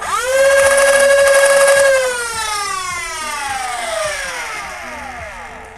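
The flywheel motors of a foam dart blaster pistol rev up with a rising whine, then wind down in a long falling pitch sweep, with a few quick clicking shots heard underneath.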